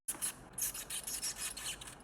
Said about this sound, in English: This is the sound of bats chirping inside a wall.